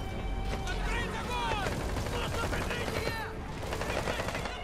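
Rapid bursts of gunfire in Metal Gear Solid 5 crackle continuously in close, loud volleys, with game voices and other battle sounds mixed underneath.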